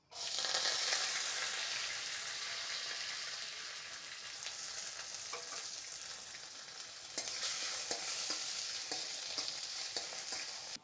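Onion, curry leaves and garlic sizzle and crackle steadily in hot oil in a pan, a close, bright frying hiss with occasional stirring scrapes and pops throughout.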